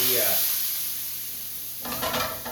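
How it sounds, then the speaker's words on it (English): A pan sizzles and hisses steadily after cooking chicken saltimbocca, with a loud burst of bright frying noise near the end as white wine hits the hot surface to deglaze it. "I deglazed the pan with some white wine"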